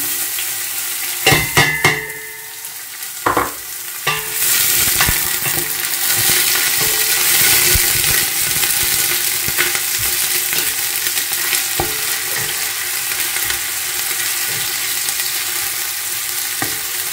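Chopped onion sizzles steadily in hot oil in a pan, a continuous loud frying hiss after a few clatters of utensils at the start, with occasional stirring scrapes and knocks throughout.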